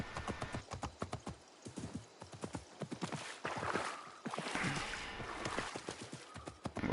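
Hooves of a horse in the video game Assassin's Creed Mirage clip-clop at a quick, regular gallop rhythm, crisp and close, continuing steadily throughout.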